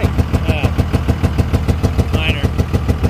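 An engine that may have a spun crank bearing runs rough nearby, a loud, steady idle with regular pulsing beats throughout.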